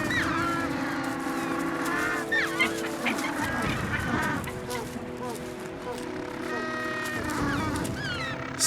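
African penguins attacking an intruder near their nests on the African coast, a noisy chorus of harsh honking, braying calls and squawks with scuffling, heard up close and continuing throughout.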